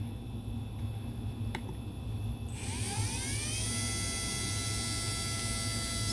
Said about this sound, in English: Sounds like this one actually has more timing. You can hear it spin up quite high.